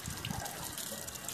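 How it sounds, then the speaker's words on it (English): Water gushes steadily from the tap of a hand washing machine, a brief close splashing flow that continues alone without any voices. "So the water comes and you wash your hand very well."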